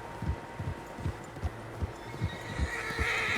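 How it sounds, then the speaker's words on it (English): Several horses galloping in Red Dead Redemption 2, a steady run of heavy hoofbeats thudding at close range with a rising wash of outdoor ambience, no talking. "Horses, quite a few of them."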